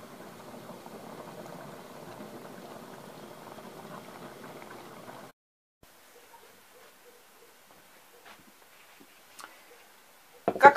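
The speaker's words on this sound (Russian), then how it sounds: "И оставьте провариться еще на пару минут." Adjika, a thick tomato and pepper relish, simmers in a pot with a steady low bubbling for about five seconds, then goes nearly quiet apart from a few faint ticks and a sharp clatter at the end.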